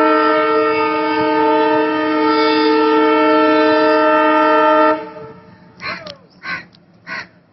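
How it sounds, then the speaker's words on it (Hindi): A Shramik special train at Madhubani railway station sounds a loud, sustained horn for about five seconds, then stops, and several crows caw nearby in short bursts. "मधुबनी में श्रमिक स्पेशल ट्रेन अब मधुबनी रेलवे स्टेशन पर पहुंच चुकी है।"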